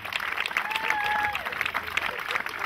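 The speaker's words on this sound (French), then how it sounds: "On l'applaudit, mesdames et messieurs." An audience applauds at the opening ceremony of the 7th Coupe Leblanc, with steady, moderately loud clapping lasting throughout and a few whistles rising above it.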